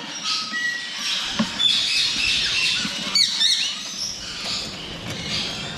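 Ringneck parakeets at a bird breeding facility give sharp, shrill squawks and chirps in short bursts over a steady background hubbub, fairly close, with no talking.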